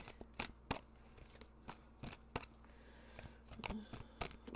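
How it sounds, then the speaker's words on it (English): Tarot cards cut and shuffled close by, sharp papery snaps and slaps spaced irregularly through the shuffle over a low steady background hum, with no talking. "Cut and then shuffle."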